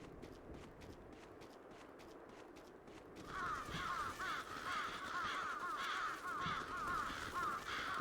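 Crows caw in the video game Bloodstained: Ritual of the Night, a faint run of ticking steps giving way to a steady chorus of raspy calls that carries on to the end.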